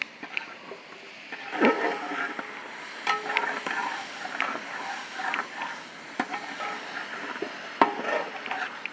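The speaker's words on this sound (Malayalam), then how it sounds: "ചെറുതായിട്ട് അരിഞ്ഞു വെച്ച തക്കാളിയേ ഇളക്കിക്കോ" Chopped tomatoes stirred in a pot for buffalo rib and kappa biriyani: soft irregular scraping and stirring strokes with a faint sizzle underneath, close and moderately quiet, no talking.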